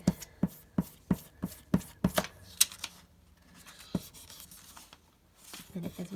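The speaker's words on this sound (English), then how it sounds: "So keep it as still as you can and work your way across, rubbing the pencil marks" A pencil rubs pencil marks across paper laid on soft lino, producing a series of sharp scratchy strokes in quick rhythm, then a pause and a few softer rubbing passes, close and fairly loud.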